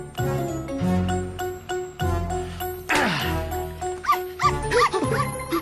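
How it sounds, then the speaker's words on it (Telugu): A dog barks repeatedly in short, close yips and woofs alongside jingling, tinkling sounds and a musical backdrop in a Telugu film scene. "కుక్కని తెచ్చావేంట్రా?"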